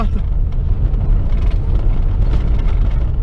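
Chevrolet Corsa door and dashboard rattling while driving slowly at about 20 km/h, a steady close interior drone of road and engine noise with faint buzzy rattles underneath, continuous throughout.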